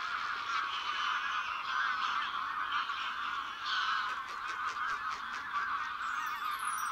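Greylag geese honking steadily in a flock, a dense continuous chorus of nasal calls that stays loud and unbroken for the whole stretch, with no voices.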